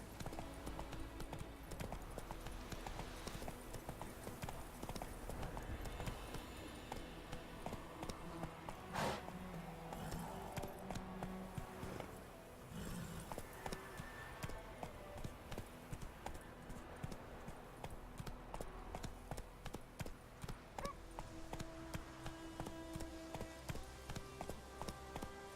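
Horse hooves clip-clop in a steady galloping rhythm inside the video game Witcher 3, loud and continuous over ambient game sound and music, with a voice briefly urging the horse on.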